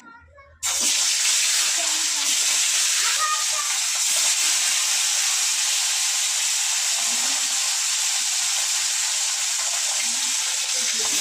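Fish frying in hot, smoking oil in a wok, a loud continuous hiss and sizzle that bursts in suddenly and holds steady at close range, with faint background sounds underneath.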